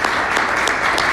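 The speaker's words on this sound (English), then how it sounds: "So I'd love to give a round of applause for John for and his staff" A brief burst of applause at an alumni mentor program reception, many hands clapping in a dense, even wash, fairly loud and close, lasting only a moment without pause.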